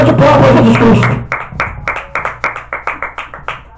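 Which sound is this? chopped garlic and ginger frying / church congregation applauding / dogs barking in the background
church congregation applauding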